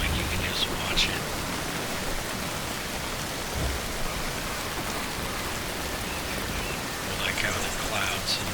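Steady in-game rain in Soulmask sweeps in like a sheet, a dense, even hiss of falling water that stays constant throughout with a few faint brighter spatters.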